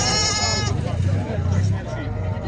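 Lambs and goats bleat at a busy livestock market, one close drawn-out bleat followed by more animal calls as people talk over them.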